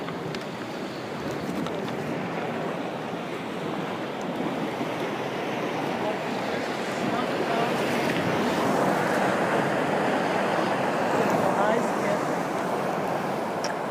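Ocean waves breaking on a Kauai shore during an outdoor wedding, a continuous broad wash of surf with some wind noise, swelling slightly louder toward the end.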